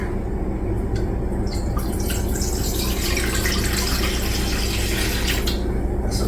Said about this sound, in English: Put a little bit of water.